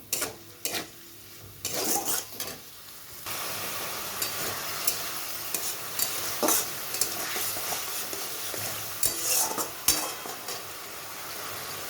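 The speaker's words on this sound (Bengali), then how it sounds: "এখানে দিয়ে দিচ্ছি জিরা বাটা, মশলাটা ভালো করে কষাতে হবে।" Ground cumin paste masala being stir-fried in a pan, with a few clinks and scrapes at first and then a dense, steady sizzle, broken by occasional spatula strokes close by and no talking.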